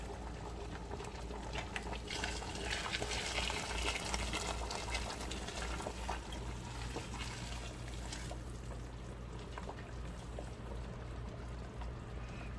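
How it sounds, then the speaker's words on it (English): Water pours steadily into a pot of Cambodian kathiew noodle soup with a soft, continuous rushing and bubbling sound, quiet and close. "adding in more water"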